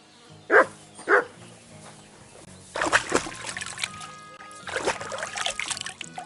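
A dog barks in the medieval game Kingdom Come Deliverance 2, two clear close barks followed by rougher, busier game sounds.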